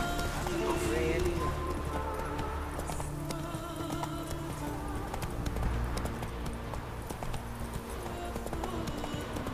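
Horse hooves pound in a steady galloping clip-clop in The Witcher 3: Wild Hunt, continuous and close under a busy game soundscape.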